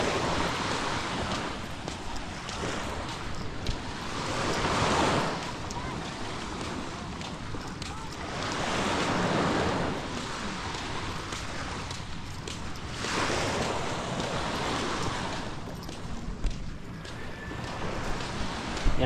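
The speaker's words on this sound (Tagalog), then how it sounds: "Ang ganda ang dagat to. Kalmado." Calm sea waves wash near the shore, soft surges rising and falling every few seconds amid breezy wind noise on the microphone, moderately close with no clear voices.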